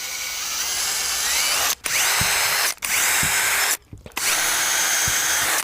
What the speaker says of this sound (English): we ensure that the frame's not going to crack by pre-drilling these holes first